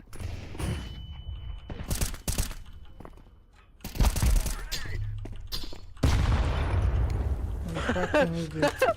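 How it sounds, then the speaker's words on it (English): A flashbang grenade going off in Counter-Strike 2 amid bursts of gunfire and impacts, loud sharp blasts in clusters with a rumbling tail, mixed with voices talking over the action. "Throwing a flashbang"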